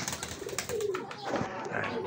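Soft racing pigeon coos repeat a few times close by, low and throaty, with some background rustling.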